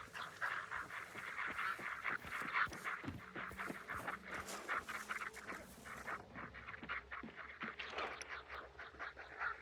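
Ducks quacking in the PS5 game Hunt: Showdown 1896, heard quiet and somewhat distant as a rapid, repeated chatter of nasal calls that keeps going steadily, briefly pausing midway, then resuming.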